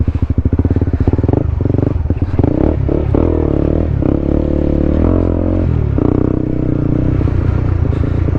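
A Honda CB150X motorcycle climbs a steep mountain trail, its engine chugging loudly up close as it labors in low gear, with rattling and clatter from the rough ground and no speech over it.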